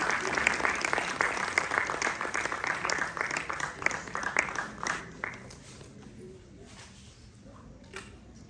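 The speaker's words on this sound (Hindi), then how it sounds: "जोरदार तालियों के साथ स्वागत कीजिए सर।" Audience applause at an international yoga conference in Haridwar, dense clapping filling the hall for about five seconds before thinning out and fading into quieter room noise.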